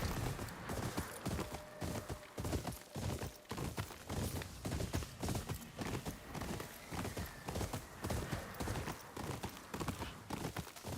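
Horse hooves clip-clop in the video game Ghost of Yotei, a fast, steady galloping rhythm of repeated thuds that stays close and even throughout, with no talking over it.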